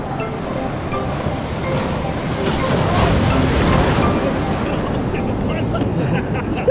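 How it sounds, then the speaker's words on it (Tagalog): Big ocean waves wash and roar around a small outrigger boat under way, a continuous loud surf and wind rush with people talking over it. "Malaking alon."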